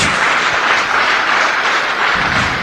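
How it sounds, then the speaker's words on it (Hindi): Loud, sustained applause from a large audience at a business seminar, a dense unbroken wash of clapping that holds steady for the whole stretch. "जोरदार तालियां इनके लिए"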